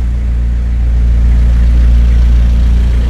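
A car's engine runs steadily during a manual-transmission driving lesson in first gear, giving a loud, continuous low hum with no talk over it.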